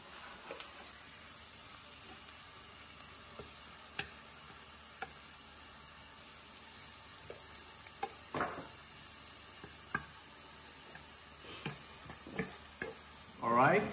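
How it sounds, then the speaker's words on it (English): Butter sizzling in a pan as pine nuts and onion fry, a steady soft crackle with occasional sharper ticks and scrapes of stirring, close by, growing busier toward the end. "put down some butter and then add some pinion nuts"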